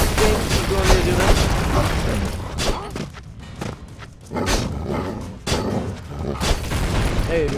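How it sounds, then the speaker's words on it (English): Rocket launcher shots and heavy explosions in a video game, loud booming bursts at irregular intervals over a dense rumbling background, with a voice talking through it. "There's a freaking rocket launcher."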